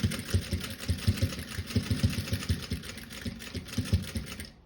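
A sewing machine stitching a mesh stash pouch chatters in a fast, steady rhythm of close, even needle strokes, running alone until it stops at the end.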